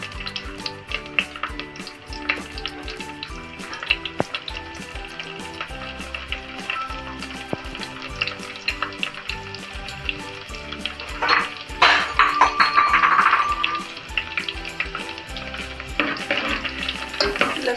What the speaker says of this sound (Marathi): लसूण आपल्याला चांगला लालसर असा परतून द्यायचा आधी